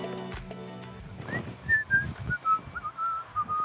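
A man who gathers and grows organic medicinal herbs whistles a light, wavering tune while he works, the melody coming in after some dull handling knocks and continuing over soft bumps.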